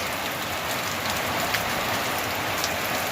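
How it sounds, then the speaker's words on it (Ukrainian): Rain falls steadily in a village, a constant close hiss of drops on surfaces with occasional louder individual splashes, no voices. "йде в нас дощ."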